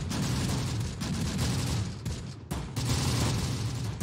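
Heavy, continuous gunfire and rolling volleys in Close Combat: The Bloody First, loud and dense, with a brief drop in intensity before resuming.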